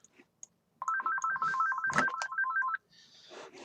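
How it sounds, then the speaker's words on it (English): A phone ringtone from an incoming call trills in a fast repeating melodic pattern for about two seconds, fairly loud and clear, then cuts off. "Pardon me again, I'm getting another phone call."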